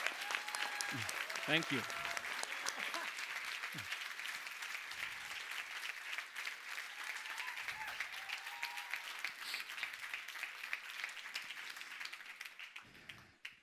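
Sustained audience applause fills a conference hall after a keynote address at a professional speakers' summit, steady dense clapping throughout with a few brief spoken thanks over it.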